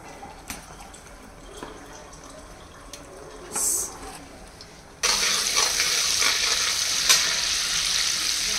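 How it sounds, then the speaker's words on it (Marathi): Quiet clinks and a soft scrape, then a sudden loud, steady sizzle of spices frying in hot oil and butter that continues to the end. "आपण मसाला शेकायला घेतोय"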